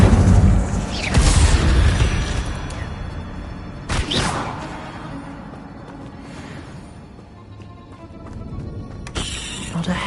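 Fiery spell blasts in the Hogwarts Legacy game, several loud whooshing bursts spaced a few seconds apart over a rumbling game backdrop.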